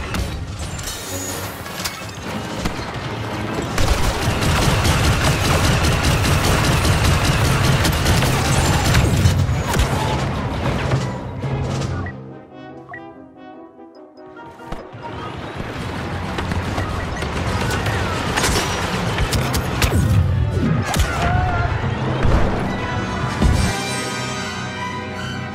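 A video game battle plays out with a grenade explosion and gunfire: loud, dense crashes, booms and mechanical clatter, a brief lull midway, then the heavy barrage resumes.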